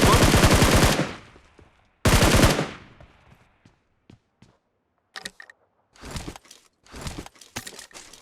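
Two loud, close automatic bursts from AKM and AUG rifles in the video game PUBG Mobile, then scattered softer shots and short distant bursts.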